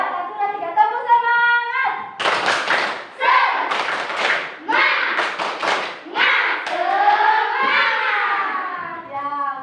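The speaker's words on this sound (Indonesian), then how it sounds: "kita tepuk semangat dulu ya" Schoolchildren and their teacher run through a rhythmic 'tepuk semangat' clapping routine in class, with chanted, sung-out voices leading into bursts of patterned clapping and taps that recur in quick sets, close by.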